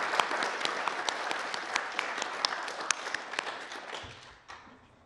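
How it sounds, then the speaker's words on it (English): A crowd applauds steadily for several seconds, a dense patter of clapping that fades out near the end. "may I suggest that we do a round of applause for those people who have sponsored this"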